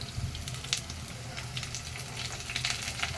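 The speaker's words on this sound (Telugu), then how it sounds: "మీడియంలో ఫ్రై అవ్వాలండి ఆనియన్ అప్పుడే టేస్ట్ వస్తుంది ఆనియన్ అయితే బ్రౌన్ కలర్ వస్తుందండి ఫ్రై అవుతుంది ఈలోపు కరివేపాకు వేసుకున్నాము" Onions and curry leaves fry over medium heat for a palak chicken curry, a steady close sizzle with occasional soft crackles and pops, no talking.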